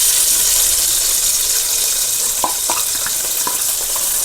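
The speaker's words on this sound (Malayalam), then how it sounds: "നമുക്കിനി ടൊമാറ്റോ ഇട്ട് കൊടുക്കാം." Tomatoes tossed into a hot pan of frying garlic and egg fried rice, a continuous loud sizzle with a few small clicks and stirring knocks near the end, close up and without speech.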